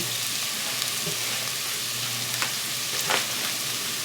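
Minced garlic sizzles in hot fat in a soup pot: a steady, close crackling hiss with a few brief pops and stirring scrapes, no voices.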